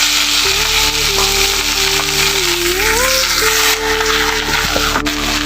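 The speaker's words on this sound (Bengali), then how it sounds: "আমি এখন কুচনো কুমড়ো শাক দিয়ে দেবো" Chopped pumpkin greens frying in oil tempered with garlic produce a loud, steady sizzle, with a melodic tune playing over it.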